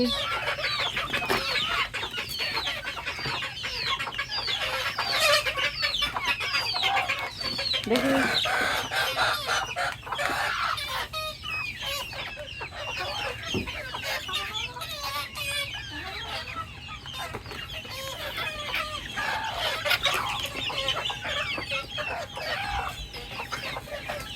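Backyard chickens eating pasta pudding, clucking and chattering busily and continuously at close range, with occasional louder calls over a steady flock murmur and no speech.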